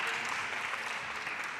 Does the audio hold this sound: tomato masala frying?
no